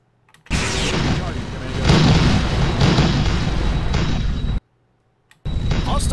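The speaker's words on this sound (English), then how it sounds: "Hostile ships have opened fire on us." Hostile spaceships fire weapons in the space combat game Ceres, producing loud, sustained roaring blasts that cut off abruptly, fall silent for a moment, then resume.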